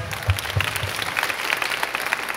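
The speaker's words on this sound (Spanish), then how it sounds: "un aplauso para él, por favor" Applause from a convention audience for a companion, a steady wash of many hands clapping with a few heavier low thumps near the start, fairly close and continuous with no talk over it.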